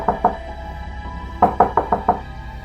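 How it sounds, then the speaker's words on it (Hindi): Loud knocking on a closed door in a tense horror scene: two sharp knocks, a short pause, then a rapid burst of five heavy raps, close and with no voices. "दरवाजे पर जोर जोर से दस्तक होने लगी।"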